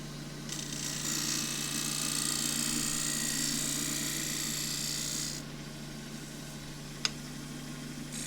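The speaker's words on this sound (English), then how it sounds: "Now shear scraping away just to get rid of a little ridge." A shear scraper rasps across a spinning Tasmanian blackwood bowl on a wood lathe, a steady close scraping hiss that runs for about five seconds, then drops away to the motor hum, with one sharp tick near the end.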